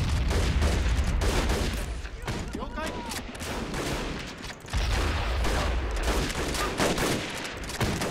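Mortar and gunfire in Men of War: Assault Squad 2, a dense ongoing battle din of rapid gunshot bursts and booming impacts throughout, with no pauses.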